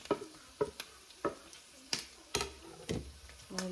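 Onion and garlic fry in a pan for an adobo and vegetable meal, with a low sizzle broken by repeated sharp scrapes and clacks of stirring, roughly every half second, close and moderately loud.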